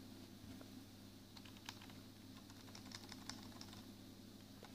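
Keys on a Lenovo Calliope USB keyboard are pressed, making a series of soft clicks over a steady low hum, faint and close.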